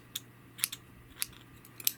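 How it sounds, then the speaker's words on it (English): Dull scissors snip through yarn during a crochet project, making several sharp, crisp clicks in an irregular rhythm, close and fairly quiet over a faint background hiss, with no speech. "Sorry, I got dull scissors."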